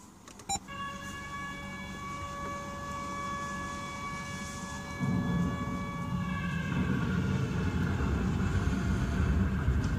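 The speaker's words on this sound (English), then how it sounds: "Air raid siren." A loud, steady wailing air raid siren holds a sustained tone, shifting and thickening partway through as a low rumble grows beneath it; no talking.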